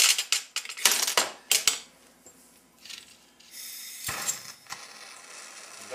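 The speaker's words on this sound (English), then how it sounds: "we're going to punch some holes in there" Holes are punched by hand into a plastic yellow jacket trap, heard as a few sharp close clicks and crunches in quick bursts with quieter pauses and faint handling noise between them.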